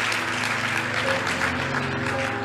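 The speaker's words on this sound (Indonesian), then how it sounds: "Berikan tepuk tangan buat Tuhan." Steady, dense applause from a church congregation during a sermon, continuous and fairly loud throughout with no speech over it.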